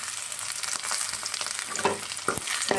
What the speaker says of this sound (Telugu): పచ్చివాసన పోయిన వరకు ఫ్రై చేసుకోవాలి